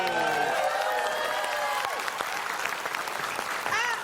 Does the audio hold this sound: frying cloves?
no